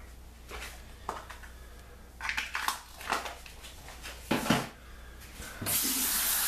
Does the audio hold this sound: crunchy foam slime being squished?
no